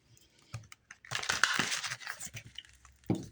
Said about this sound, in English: let's try that shuffle again